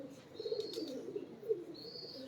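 Domestic pigeons from a racing breeder's loft, cooing softly in a low steady murmur with a few louder swells, plus faint higher chirps from other birds in the background.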